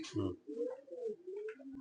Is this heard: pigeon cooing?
yes